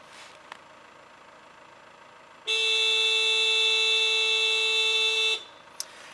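A Citroen C5 Aircross horn blares in one steady, unbroken honk lasting about three seconds, loud and close, with quiet background before and after.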